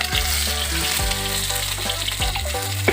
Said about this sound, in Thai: ผัดพริกแกงก่อนนะพริกแกง